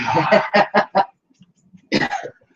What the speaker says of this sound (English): I was blowing my nose and the camera was running